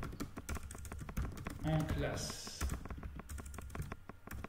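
Fingers tap quickly on a QWERTY/AZERTY computer keyboard in irregular bursts of close clicks, with a person talking over the typing.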